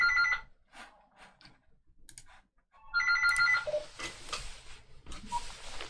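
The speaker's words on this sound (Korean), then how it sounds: "죄송합니다. 전화가 와가지고요." A telephone ringing with repeated electronic ring bursts during a convolution and padding class lecture in a quiet room, loud and close, broken by clicks and small handling noises.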